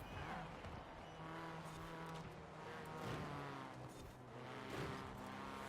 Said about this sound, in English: I do like the exhaust tone a little bit more in this car, that's for sure.